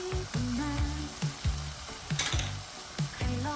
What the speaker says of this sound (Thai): แล้วก็ผัดทุกอย่างให้เข้ากันอีกทีนะครับ